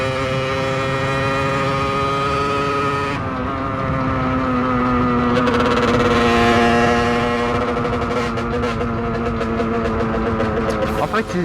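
A 50cc supermoto motorcycle engine idles and revs steadily up close, its rough tone rising and falling, with someone talking over it.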